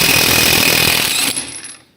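A MEKIBOR 800 Nm cordless impact wrench hammers loudly on a nut for over a second, a dense rapid rattling buzz up close, then cuts off and winds down to quiet.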